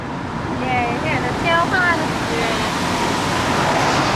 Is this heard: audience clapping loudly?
no